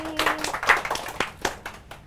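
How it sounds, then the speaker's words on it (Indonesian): A small audience clapping in a short, loose burst of separate handclaps, close and moderately loud, with no talking over it. "Tepuk tangan dong"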